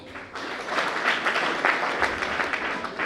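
An audience at a college tech fest gives a steady round of applause for a dance performance, dense clapping that rises slightly and holds evenly throughout.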